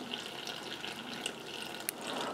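Cold tap water running steadily from a faucet into a container for sourdough, a continuous close splashing gush with no talk.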